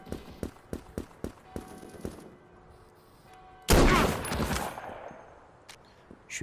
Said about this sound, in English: Oh, that's some close gunfire right there.